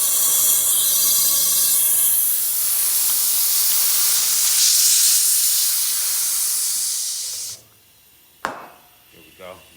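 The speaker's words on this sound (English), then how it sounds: "That's how you know it's nicely sealed when you hear it pop." Air hisses loudly and steadily as a Segway GT2 rear tire inflates, then stops abruptly and is followed by a sharp pop as the bead seats, with a couple of softer knocks after.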